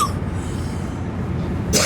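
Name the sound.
person coughing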